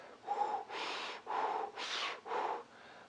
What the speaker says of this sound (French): on va faire la respiration du feu encore, mais avec la bouche en haut comme si on voulait siffler.